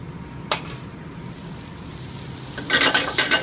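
Mushrooms sauté in a pan with a low, steady sizzle, a brief clink early on and a louder burst of stirring and spitting toward the end.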